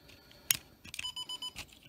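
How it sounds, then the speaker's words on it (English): A Digitrax DCC command station sounds a short alarm after the model railroad track is shorted, a series of four or five clipped electronic beeps in a steady rhythm, preceded by a few sharp clicks and clatter. "that little alarm was because I shorted out the command station"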